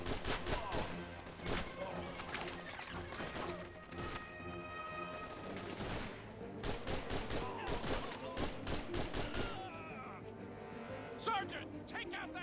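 A machine gun in Call of Duty 2 fires rapid, loud bursts amid a chaotic wartime battle, with voices shouting through the din.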